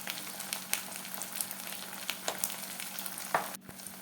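Steady crackling sizzle of onions frying in a pan, with a few louder pops and stirring scrapes, no voices.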